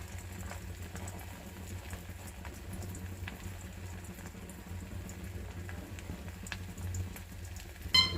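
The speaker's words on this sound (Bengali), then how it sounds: "সরিষার তেল দিয়ে মাছ ভাজতেছি" Fish fries in foaming mustard oil in a pan on a gas stove, giving a steady, faint sizzle and bubble throughout, with a small clatter at the end.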